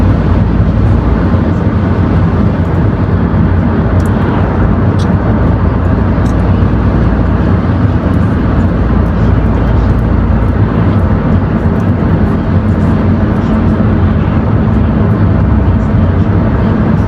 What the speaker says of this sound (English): Be gentle with the gas and gradually let the car speed.